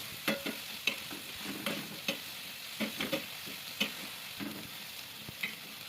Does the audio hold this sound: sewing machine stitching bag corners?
no